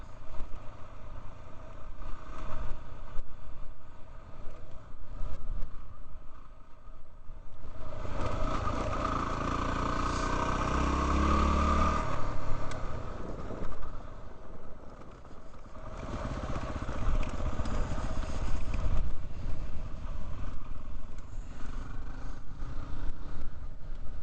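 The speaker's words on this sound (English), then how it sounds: "I'm having to run this 250 wide open to keep up with all the horsepower of the mighty KLR." A 250cc dirt motorcycle held wide open on a forest trail in the Coronado Forest, Arizona, with a steady, buzzing engine drone that swells and eases over time, close and continuous.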